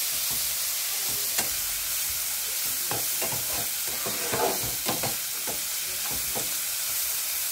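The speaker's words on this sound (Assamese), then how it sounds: "লো ফ্লেমত এইখিনি ভাজি থাকিব লাগিব" Jatilao seeds with salt and turmeric sizzling gently in a pan on low flame for chutney, a constant hissing bed dotted with crisp pops and occasional spatula scrapes, close and even, without speech.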